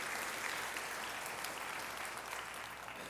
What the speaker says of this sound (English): If you will join me just by giving a round of applause to these nations and thanking them for their stewardship